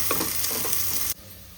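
Tomato masala frying in a pan, a steady close sizzle with stirring clatter that cuts off abruptly near the end, leaving a faint low hiss.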